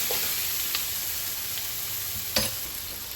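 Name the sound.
onions and carrots frying in lamb fat in pan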